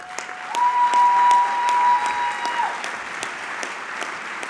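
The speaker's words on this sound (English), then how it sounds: "So if you would hold your applause" A crowd at an event honoring a group of Rangers breaks into steady applause, with sharp individual claps standing out over the dense patter and a faint thin tone running underneath.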